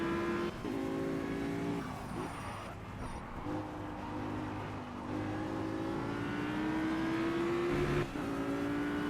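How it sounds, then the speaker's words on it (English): A race car in the video game Project Cars brakes hard and loses traction, its engine note falling and rising with gear changes while tires scrub, steady and close with no voices. "That just completely lost traction under braking then."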